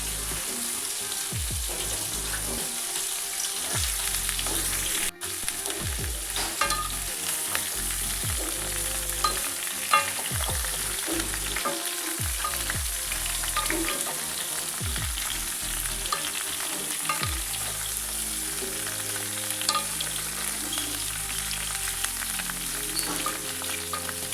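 Raw mango pieces frying in mustard oil with dried red chillies, a steady dense sizzle and crackle running throughout, close and loud, with occasional stirring clatter.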